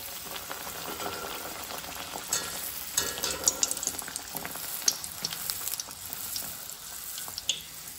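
Rolled dough pieces drop into hot oil and fry, giving a steady close sizzle with scattered crackling pops throughout, no talking heard.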